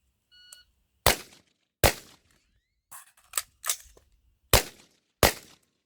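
An AR-15 rifle fires six sharp, loud shots at a range: two quick shots, a gap with clattering reload handling and a timer beep, then more spaced shots, each cracking and decaying fast.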